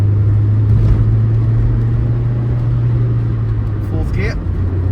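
Rover R8 214 Si car driven and accelerating up through second and third gears, a steady loud engine drone from inside the cabin with a person talking over it.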